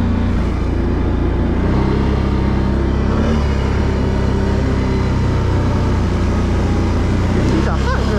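A Renegade engine warms up in the snow, giving a loud, steady, close rumble that fills the whole stretch, with a voice faintly underneath.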